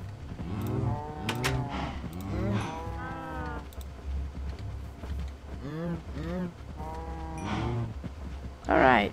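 Blocky farm cows in the video game Minecraft moo repeatedly. Several drawn-out, tonal moos overlap and follow one another closely in a crowded pen, all fairly loud and near.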